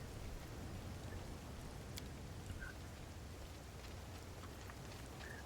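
Blood rain in the video game Pathfinder: Wrath of the Righteous falls as a steady, faint hiss of rain on a surface, an even continuous wash with no talk.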